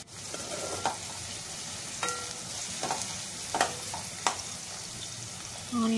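Onions frying with mustard seeds, cumin and salt in a pan give a steady low sizzle, broken by several sharp stirring scrapes and small pops, close and fairly quiet.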